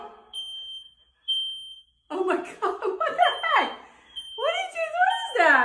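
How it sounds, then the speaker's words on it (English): A smoke alarm beeps with a high, piercing tone in a home where a toilet is smoking; short repeated chirps come alone at first, then continue under excited, shouting voices. "Why is the alarm going off?"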